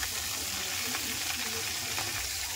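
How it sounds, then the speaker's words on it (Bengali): Two koi fish fry in hot oil left from frying vegetables, giving a dense, steady crackling sizzle with small pops throughout and no voices. "সেই সবজি ভাজার তেলেতেই আমি কই মাছ দুটোকে উল্টে পাল্টে ভালো করে ভেজে নেব।"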